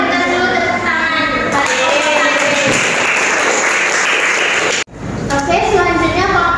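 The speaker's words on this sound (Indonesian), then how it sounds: "berikan dulu tepuk tangan" Classroom applause from students during a microteaching lesson, a burst of clapping in the middle that stops abruptly, with a teacher and kids talking before and after it.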